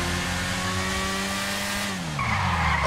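A car drifting in GTA 5 with tires squealing steadily, engine droning underneath, then the pitch sliding and the engine revving up as the skid changes near the end, close and loud.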